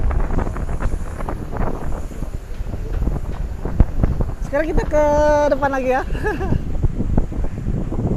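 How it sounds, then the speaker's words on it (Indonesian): Strong wind buffets the microphone outdoors at a harbour in clear weather, a steady low rumble that runs through the whole clip while someone talks over it. "Cuaca cerah tapi angin cukup tinggi di sini"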